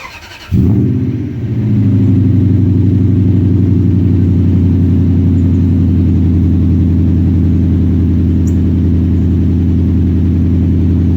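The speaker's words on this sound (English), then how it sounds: "here comes a cold start with the JBA long tubes and BAM mufflers out to the TRD tips" First-generation Toyota Tundra V8 cold-starting with JBA long-tube headers and BAM mufflers through TRD tips: a quick crank, then a loud, steady, deep idle rumble held throughout.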